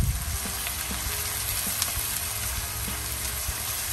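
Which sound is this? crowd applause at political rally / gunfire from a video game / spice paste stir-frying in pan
spice paste stir-frying in pan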